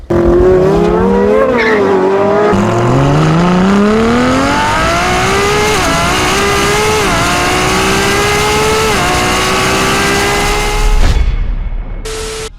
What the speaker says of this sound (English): I guess that's what happens when you race a Ferrari